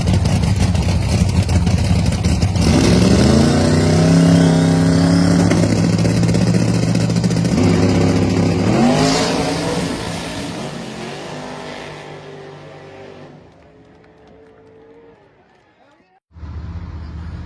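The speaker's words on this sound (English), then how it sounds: "we got Jimmy Summers taking on Jeff Lutz in the 57 on small tires" Small-tire drag race cars racing, a Jimmy Summers entry against Jeff Lutz's '57, roar loudly as rising engine tones sweep upward, then fade into the distance before a brief gap and a sudden return of noise.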